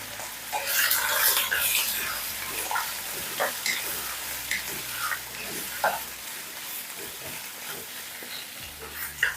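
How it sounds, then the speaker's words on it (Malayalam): One kilo of small-cut chicken pieces stirred in a hot pan, with scraping spoon strokes and crackling sizzle heard close and steady, the clatter rising and falling with each stir. "ഇത് നന്നായിട്ട് നമുക്കൊന്ന് ഇളക്കി കൊടുക്കാം."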